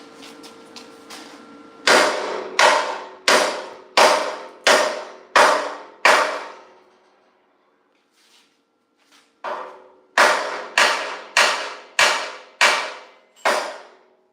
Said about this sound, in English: I gotta find my hammer.